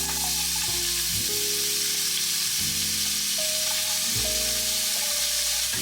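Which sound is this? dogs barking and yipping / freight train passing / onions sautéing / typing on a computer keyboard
onions sautéing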